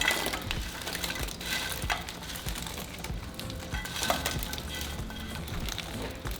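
Chicharrón dropped into simmering red salsa and stirred, giving a steady wet sizzle and bubbling with scraping, clinking stir strokes close by, continuous throughout with no talk.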